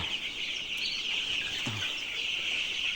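Colour bat chickens in a farm shed give a single low cluck partway through, faint against a steady hiss of ambient shed noise and soft high-pitched chirping, with no one speaking.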